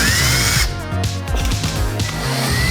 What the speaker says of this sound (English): which basically requires you to drill out the hole to the next size up